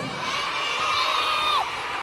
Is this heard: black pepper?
no